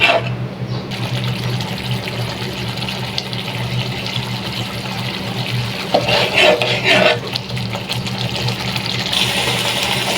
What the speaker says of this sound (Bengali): এখন দিয়ে দিব একটু পানি দিয়ে কষিয়ে নেব